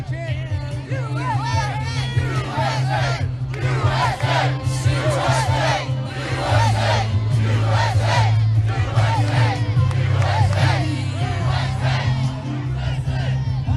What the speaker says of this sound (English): Can we get a USA chant?